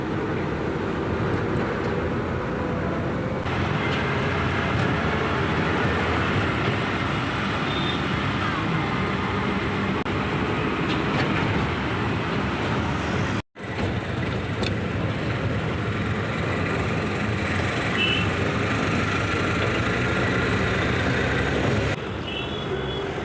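Train ride in a passenger carriage, with a continuous rumble and rolling roar running throughout and a brief cut near the middle, steady and close.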